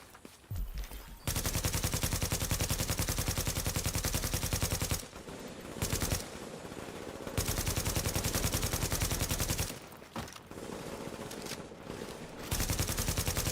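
Sustained automatic gunfire roars in Tom Clancy's The Division during a legendary mission, long loud bursts broken by short pauses, with a sharp shotgun blast mixed into the barrage.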